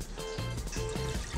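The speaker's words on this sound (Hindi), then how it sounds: "बड़ा ग्लास हम इसमें इस तरह से पानी का डाल देंगे" Water is poured into a large glass to make homemade sugarcane juice. It gives a close, steady gurgling fill with a few short pulses, heard alone without talk.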